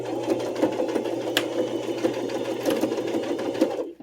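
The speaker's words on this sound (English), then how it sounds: "help your sewing machine along a little" A sewing machine stitches fabric for a toiletry roll, a steady rapid close mechanical whir that runs continuously for several seconds before stopping abruptly.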